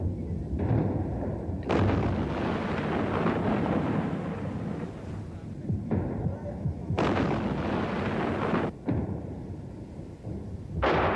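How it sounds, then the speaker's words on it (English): Self-propelled guns shelling positions in towns along a highway in Lebanon, 1982: several heavy booming artillery blasts in irregular succession, each with a rumbling decay, fairly distant and muffled. "self-propelled guns pounded PLO positions in towns along the highway"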